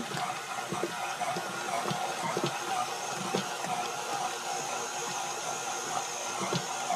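Electric stand mixer kneading vegan bread dough in a bowl, a steady continuous motor whir with a faint rhythmic thumping of the dough, moderately close and heard alone without talk.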